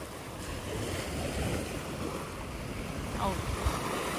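Waves wash over a rocky beach with clear blue water in Korea, a steady broad rush of surf with some wind buffeting the microphone and no clear talk.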